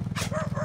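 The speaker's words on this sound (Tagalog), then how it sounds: "Ito ang nakakatakot ang aso." A dog barks nearby over a steady, rhythmic low thumping background.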